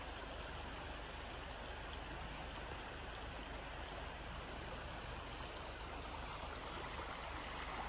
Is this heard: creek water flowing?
yes